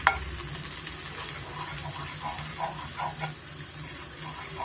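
Paneer cubes frying in butter in a pan, a steady close sizzle with faint stirring and light clinks running throughout, no talking.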